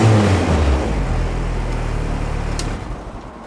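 Deep, throaty exhaust of a 1.8-litre university motor club competition car idling and revving close by, a loud rumbling drone that slowly eases off.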